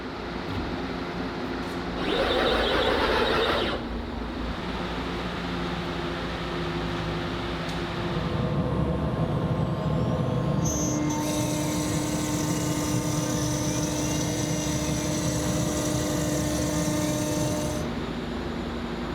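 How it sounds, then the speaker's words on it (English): A CNC machine makes test cuts in a coffee table: a steady, loud mechanical drone with a high spindle whine that runs continuously throughout, with some shifts in pitch and intensity as the cut proceeds. "I can cut the hole myself on my CNC machine"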